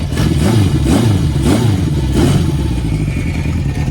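A 1971 Honda CB750 motorcycle engine idles close by, a steady low exhaust rumble with a rhythmic pulsing throb and no voices.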